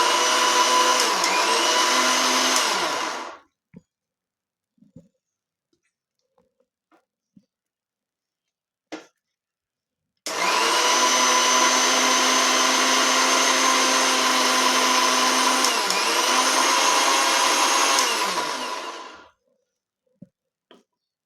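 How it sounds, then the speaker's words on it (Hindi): Mixer grinder grinding mango pulp in two long, loud, steady whirring bursts, each tapering off, separated by a quiet pause with small clicks and knocks, and a few light taps after the second run. "तो अब मैं आम को ग्राइंड कर लेती हूँ।"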